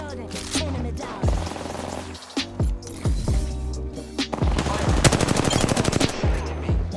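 Rapid automatic gunfire rattles in dense bursts during an Apex Legends match, with single heavier shots mixed in and a steady stream of firing near the end.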